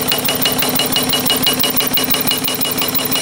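A homemade live steam engine runs steadily off its boiler, held at about 90 psi, with a loud, continuous rhythmic chuffing and mechanical clatter that never lets up, and no voices.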